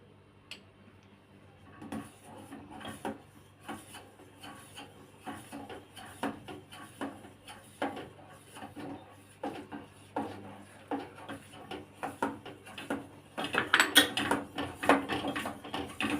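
Custard powder being whisked with milk in a pan over a low flame, a steady run of quick scraping and ticking spoon strokes against the pan, faint at first and then louder and busier near the end.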